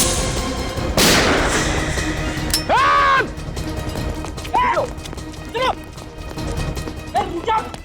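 A single loud, sharp gunshot blast rings out near the start of a tense crime-drama scene, followed by urgent voices and scattered thuds over a steady background.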